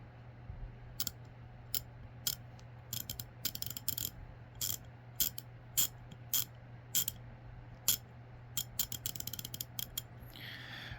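A 100-tooth ratchet clicks quietly in quick, uneven bursts of fine, sharp ticks as it is turned back and forth, close up against a low electrical hum, with no talking.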